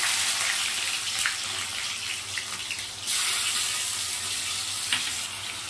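Onion drops into hot oil with a little sugar, giving a loud, steady, close sizzle with a hissing surge partway through and occasional light clicks.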